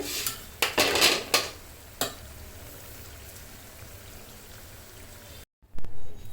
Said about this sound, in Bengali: এখন আমি একটা বাটিতে কিংবা প্লেটে ঢেলে নিব।